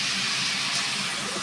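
A pressure cooker on a home stove hissing steam in a steady, dense, close rush that holds evenly through the brief moment, with no talk over it.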